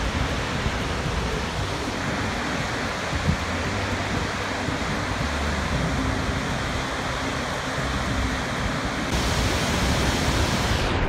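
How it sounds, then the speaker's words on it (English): A waterfall in a park in Ontario, Canada, giving a steady, broad rushing roar that holds at even loudness throughout with no talking over it. "we made it to this beautiful park which has a spectacular waterfall which you can see just there behind"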